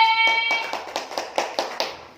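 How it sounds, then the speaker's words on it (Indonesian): A school class claps for a student group during a lesson, giving a steady run of about eight sharp, close claps after a brief voice at the start. "tepuk tangan untuk anggur B"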